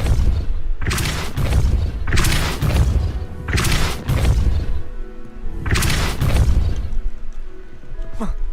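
Depulso force-push spell cast in the video game Hogwarts Legacy, giving four heavy booming blasts in quick succession, loud and close, each with a crashing thud before it fades into a lower rumble.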